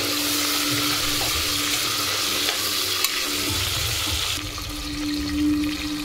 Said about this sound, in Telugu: తర్వాత టమాటా కూడా వేసుకోవాలి. ఇలా ఫ్రై చేసుకోవాలి.